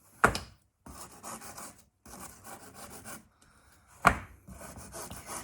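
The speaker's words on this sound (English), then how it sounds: "just let it rest on the edge, and then very carefully trim off all the way around" A sharp knife trims the edge of a baked pastry case for a lemon meringue pie, giving soft, close rasping scrapes in short bursts with two louder taps against the tin.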